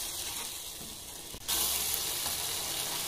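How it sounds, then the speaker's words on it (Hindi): Tomatoes frying in hot onion masala for egg bhurji, a steady close sizzle that swells louder partway through as the pan heats up, with no voices. "ये हमने टमाटर डाल दिए हैं, और टमाटर को भी थोड़ी जो है थोड़ा सा पका लेते हैं लगभग 1 मिनट तक"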